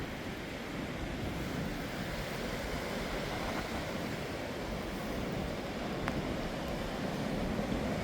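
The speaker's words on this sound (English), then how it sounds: "The waves are choppy, the winds are strong." Choppy waves on the windy coast of Ireland, heard as a steady roar of surf mixed with strong wind buffeting the microphone, loud and continuous with no talking.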